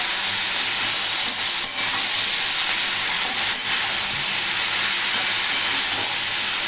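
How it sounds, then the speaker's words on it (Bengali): Chopped okra fries in a hot pan, producing a loud, continuous hiss with faint scrapes now and then, close up and with no talking. "এটাকে এখন আমি একটু ভালো করে ভাজবো।"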